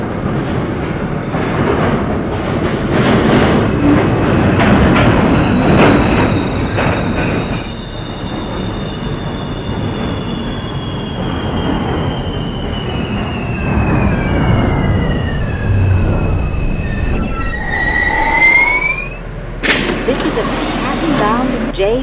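R160A J subway train in an OpenBVE simulation rumbling along the M line toward Chauncey and Halsey Street, with steady rolling clatter, a long descending wheel squeal and brief door chimes near the end.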